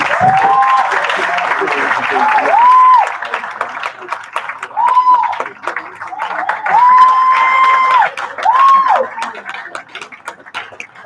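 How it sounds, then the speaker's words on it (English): An audience at an event applauds and cheers for a performing group. A burst of clapping opens, followed by loud, drawn-out whistled or hooted cheers that rise and fall over scattered claps. "Ladies and gentlemen, round of applause for Sweet Africa."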